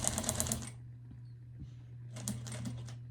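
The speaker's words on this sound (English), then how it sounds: "I'm gonna sew very slowly for this" A home sewing machine slowly stitching a quilted iPad holder runs in short rapid mechanical bursts, pausing in the middle before resuming, close and fairly quiet.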